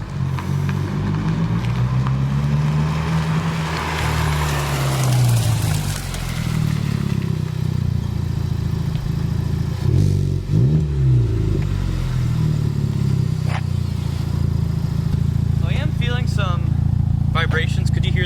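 A 2021 Honda Civic Type R with a MAPerformance street exhaust is driven on the road. Its engine drones low, swells through a rev rise and fall, and rumbles steadily under some cabin clatter.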